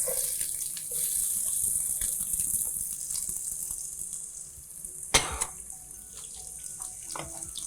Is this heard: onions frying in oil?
yes